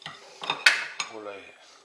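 Frangipane mixed in a bowl, a few sharp clinks and scrapes of a utensil against the sides at an uneven pace, close and fairly quiet.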